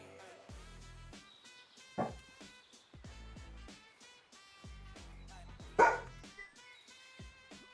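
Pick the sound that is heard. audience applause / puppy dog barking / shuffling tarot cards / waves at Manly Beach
puppy dog barking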